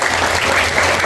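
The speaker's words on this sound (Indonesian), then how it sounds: "Berikan tepuk tangan untuk adik-adik kita." Steady, close crowd applause with dense clapping throughout for schoolchildren who performed at an Indonesian Independence Day flag-raising ceremony, with no talk over it.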